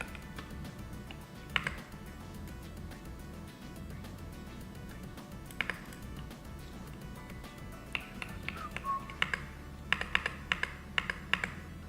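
Typing on a computer keyboard during a game development session, with scattered clicky keystrokes and short bursts that grow denser toward the end over a steady low hum.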